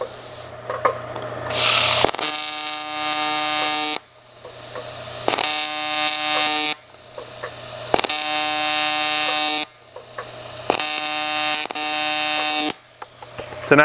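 A TIG welder runs on aluminum in repeated bursts of a few seconds each, giving a loud, steady electric buzz with short pauses between welds.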